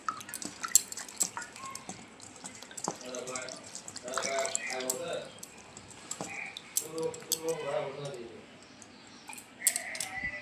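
Raw green mangoes washed in water, with splashes, drips and soft knocks of fruit against a bowl, close and intermittent, while someone talks now and then.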